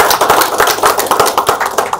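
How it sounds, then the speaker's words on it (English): An audience claps together at a public program in Nepal, a close, loud burst of dense applause that carries on steadily without any talk. "Give a big clap to."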